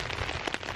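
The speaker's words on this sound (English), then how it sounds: "Listen to the rain, watch the forest." Rain falls in an Australian forest during a thunderstorm, a dense patter of drops with a few sharper close taps over steady hiss.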